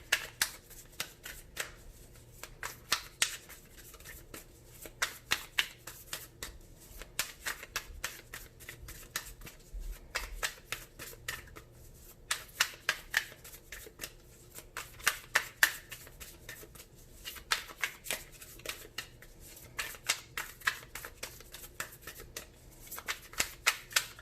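A deck of tarot cards is shuffled in repeated riffling bursts, each one a quick flurry of card snaps. The bursts are close and crisp with short pauses between them, and no one speaks.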